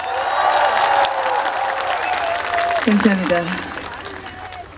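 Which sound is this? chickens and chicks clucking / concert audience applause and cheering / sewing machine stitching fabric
concert audience applause and cheering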